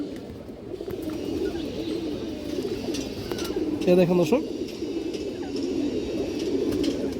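Pigeons coo at a farm selling birds, low burbling calls running beneath a man's speech, with one louder, clearer coo near the middle.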